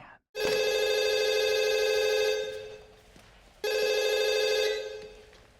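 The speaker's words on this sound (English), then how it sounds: "Phone doesn't ring that often" A telephone bell rings loudly and close, one long electronic ring that fades out, a short gap, then a second ring starting, with no talk over it.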